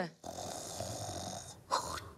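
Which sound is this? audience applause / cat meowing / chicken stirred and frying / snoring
snoring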